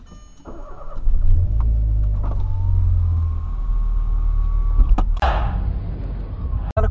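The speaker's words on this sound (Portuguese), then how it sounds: "Bora ligar o polão." A Volkswagen Polo engine cranks and catches, settling into a loud, close idle with a brief rev, and a sharp clunk near the end.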